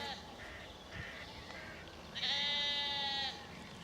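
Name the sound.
sheep bleating in a field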